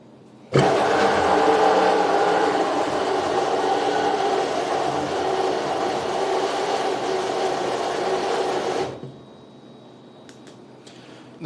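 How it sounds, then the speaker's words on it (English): Henkelman Polar 80 vacuum packing machine with its pump rotating backwards, a loud, steady mechanical roar and whir that starts abruptly, runs for about eight seconds, then cuts off to a low hum. "this is what it's going to sound like if your pump is rotating backwards"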